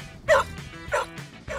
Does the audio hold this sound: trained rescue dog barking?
yes